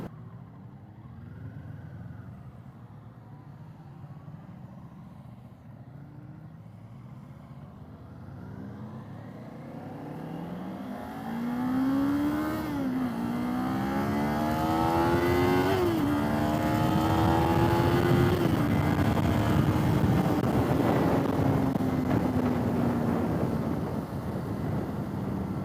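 A larger-engined motorcycle on a group test ride pulls hard, its engine note rising and stepping through several gear changes before settling into a loud, steady drone mixed with wind rush close to the rider.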